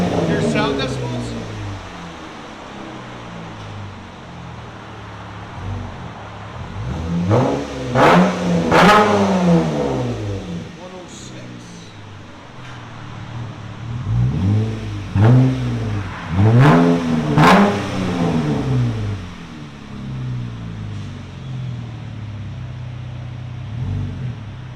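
A car's exhaust idles with a low rumble, then rises through two clusters of sharp throttle revs, each climbing and falling in pitch, loud and close, with people talking at times.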